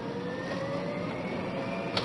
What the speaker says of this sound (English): I love the sound of that engine.